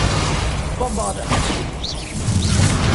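Bombarda blast spells cast in Hogwarts Legacy on PS5, a loud rush of crashing, booming impacts with swishing bursts, dense and continuous over three seconds, mixed with a voice speaking throughout.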